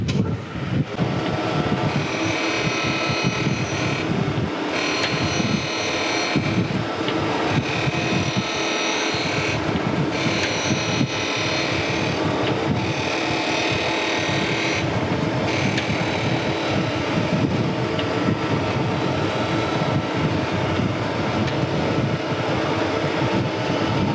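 An angle grinder grinds down a steel vise jaw during restoration, loud and continuous, with brief dips in pitch as the tool is lifted and set back on the metal.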